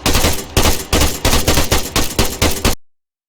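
Video game gunfire in Arma 3, a rapid string of about eight loud sharp shots in a steady rhythm, then a sudden cut to silence.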